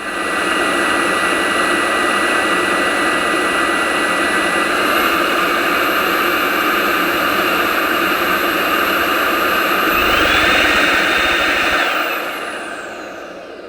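A Shark cordless upright lift-away vacuum cleaner runs on its boost setting with a loud, steady high-pitched whine and airy rush, its pitch rising near the end before the motor cuts out and spins down.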